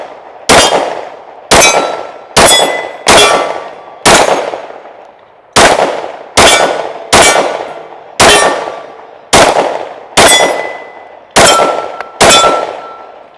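A Glock 19 pistol fires thirteen shots at steel targets, each a sharp, loud crack followed by a ringing metallic clang. The shots come at an uneven pace, often about a second apart.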